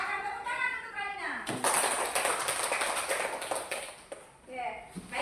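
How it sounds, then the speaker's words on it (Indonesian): Children in a classroom clap their hands together in a burst of brisk, scattered claps lasting a few seconds, preceded and followed by someone speaking. "Akan tepuk tangan untuk Raina"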